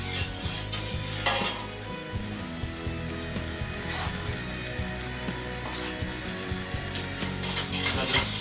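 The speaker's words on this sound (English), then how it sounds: "Now just slowly whisking all that butter together with the flour" A whisk clinks and scrapes steadily against a pot while butter and flour are worked together into a roux, with sharper metallic rattles at the start and the end.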